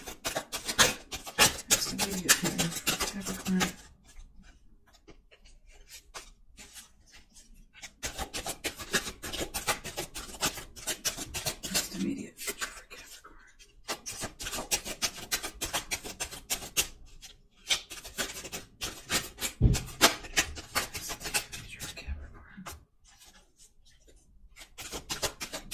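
Tarot cards are shuffled and flipped in long rustling, riffling stretches broken by short pauses. The close, soft papery scraping plays on its own without any voice.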